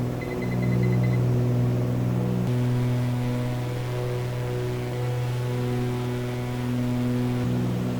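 Steady drone of a MILVIS Cessna 310R's twin piston engines in flight in Microsoft Flight Simulator, a low continuous hum with strong tonal harmonics that shifts slightly in pitch as the RPM is eased back during the climb.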